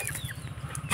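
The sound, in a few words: chicken clucking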